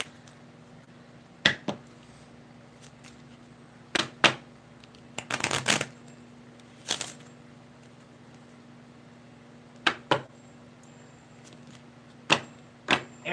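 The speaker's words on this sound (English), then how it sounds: "Justin, I am going to pull a card, a random card." Tarot cards being shuffled by hand give short, crisp riffling bursts at irregular intervals, with a longer flurry in the middle, close and fairly quiet over a steady low hum.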